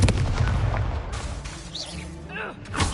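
Magic spell effects in the video game Hogwarts Legacy: bursts of booming, crackling impacts and whooshing casts, with a rumbling fiery blast and a sweeping tone near the end, loud and close.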